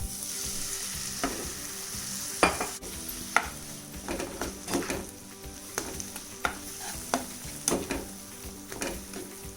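A non-veg filling with flour, milk and carrots sizzles in a pan as it is stirred, a steady frying hiss punctuated by repeated scrapes and clinks of a spoon against the pan at an irregular rhythm.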